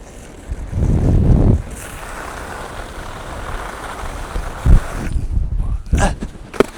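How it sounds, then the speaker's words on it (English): Wind buffets the microphone while snowboarding through a terrain park, with gusty low rumbling swells and a couple of sharp scraping thumps near the end, with no talking. "a little bit of an uphill wind"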